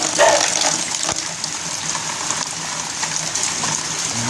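Steady rushing rainwater pours and splashes continuously into a container, a constant hissing gush with no pauses.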